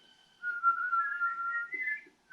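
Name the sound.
human whistling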